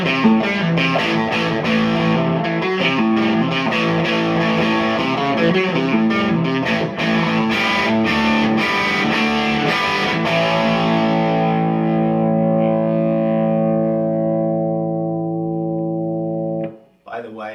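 Electric guitar on the bridge pickup, played loud through a Bad Cat Cub IV 15R amplifier: a run of thick, distorted strummed chords and riffs, then one big chord left ringing and slowly fading before being cut short.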